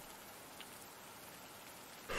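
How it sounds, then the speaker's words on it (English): Soft, steady patter of rain falling inside a truck in a video game, faint and continuous, swelling briefly louder at the very end. "Why is the rain going inside the truck?"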